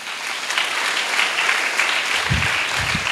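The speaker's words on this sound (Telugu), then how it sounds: "గట్టిగా చప్పట్లు కొడదాం" At a church festival for Our Lady of Velankanni, an audience claps loudly in a dense, steady burst of applause. Near the end a couple of low thumps sound under the clapping.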